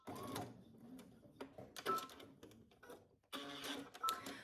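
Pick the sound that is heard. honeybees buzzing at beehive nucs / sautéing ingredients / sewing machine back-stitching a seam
sewing machine back-stitching a seam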